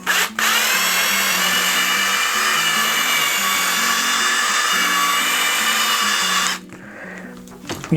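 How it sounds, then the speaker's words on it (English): A power drill with a 7/32 bit drills out a rivet on a snowshoe binding, one loud steady high whine close up for about six seconds, then stopping with a few faint handling sounds. "just drill out that rivet."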